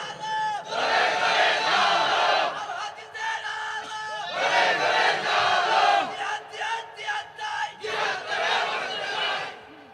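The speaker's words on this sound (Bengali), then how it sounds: "আওয়াজ করে একটা তাকবীর দেন।" A large crowd at an outdoor Islamic sermon roars the takbir chant in unison, three loud surging shouts with brief gaps between them, and a lone voice leads in between.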